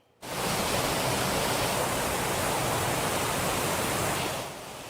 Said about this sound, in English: Commuters grabbed dramatic video of the water as it gushed in, rolling onto the tracks and onto a train